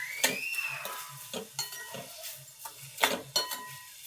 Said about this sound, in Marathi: स्ट्रॉबेरी टाकल्यानंतर आपण त्याच्यामध्ये 1 वाटी साखर टाकणार आहोत आणि पूर्ण हे शिजवून घ्यायचं आहे।